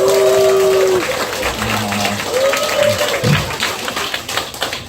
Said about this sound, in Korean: 준모 상무님을 모실 때 뜨거운 박수로 모시겠습니다.